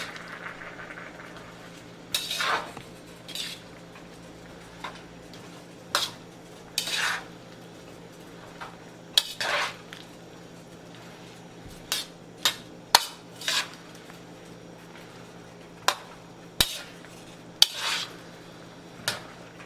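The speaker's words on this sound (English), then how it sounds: "And then just stir it up." Metal utensil scraping and clinking in a pan while stirring vegetable stir fry seasoned with white pepper, a dozen or so sharp knocks and scrapes spread irregularly over a quiet background, close and fairly loud.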